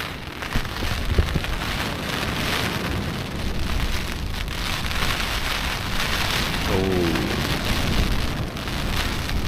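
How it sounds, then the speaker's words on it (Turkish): Heavy rain drums steadily on a tent close by during a storm, a dense, unbroken patter that holds constant throughout with no voices. "güzel yağıyor."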